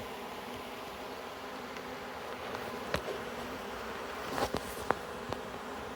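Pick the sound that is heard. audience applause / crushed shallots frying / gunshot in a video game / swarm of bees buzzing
swarm of bees buzzing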